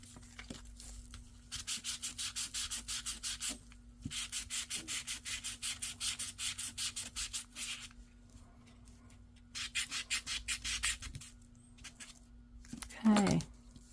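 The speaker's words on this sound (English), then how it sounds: "sanding first, Miriam, not inking." Sandpaper rubs across a paper craft tag in bursts of rapid back-and-forth strokes, several runs of scratchy sanding with short pauses between, close and fairly quiet.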